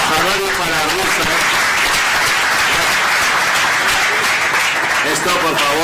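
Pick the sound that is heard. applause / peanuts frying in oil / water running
applause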